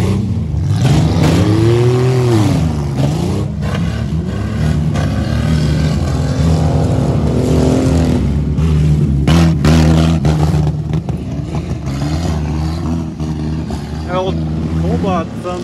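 A demolition derby vehicle's engine revs hard and labors, sounding strained, loud and close throughout with a wavering pitch, while voices talk over it.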